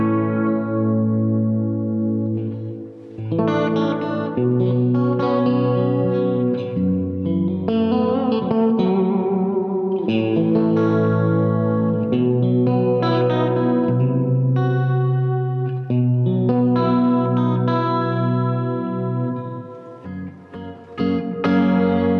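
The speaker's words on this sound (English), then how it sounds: "Check out the modulation and reverb and try to get to some kind of ambient thing going." An electric guitar plays slow chords and notes through a Vox AV30 modelling tube amp with shimmering modulation and washy reverb, sustained and ambient, with short pauses between phrases.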